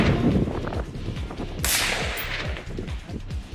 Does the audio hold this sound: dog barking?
no